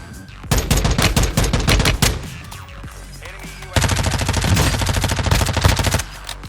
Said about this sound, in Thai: อันนี้ผมว่าปืนมันดีนะ มันไม่ได้ดีดมากอะ่ะมันมันสามารถคุมได้นะ